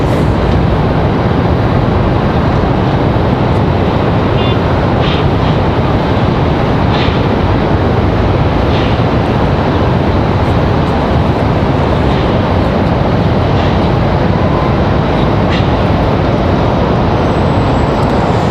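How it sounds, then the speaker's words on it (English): Steady, loud broadband rumble from an Air France Boeing 777 with GE engines at Raleigh-Durham International Airport, a continuous roar holding level throughout with no talking over it. "So the Air France 777 with the GEs on board. Be a nice rumble from this one as well."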